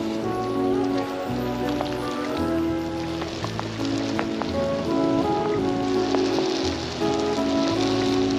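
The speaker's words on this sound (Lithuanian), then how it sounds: "lietus užėjo matyti" Rain falling in a countryside village, a dense steady patter under a continuous low hum that runs throughout.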